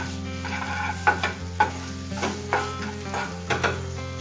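Okra frying in ghee with garam masala sizzles steadily in a pan while a utensil stirs and scrapes in several distinct strokes, close and fairly quiet, no voice.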